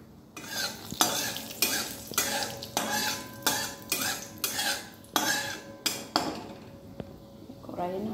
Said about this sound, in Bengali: বাদামটাকে ভেজে নেব, তেল দিয়ে দিয়েছি, তেল গরম হয়েও গেছে